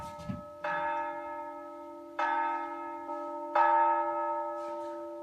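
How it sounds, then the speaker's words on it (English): Loud castle clock chimes ring the hour in slow, resonant strokes, each one sustaining and overlapping the last, with no voices. "At each hour, the clock's loud chimes distracted everyone in the castle"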